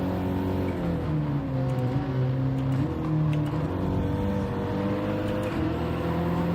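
A race car engine in a racing video game holds a steady, fairly loud drone, with pitch shifting as it moves up through the gears; no voices over it.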